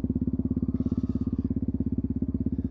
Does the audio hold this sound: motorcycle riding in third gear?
yes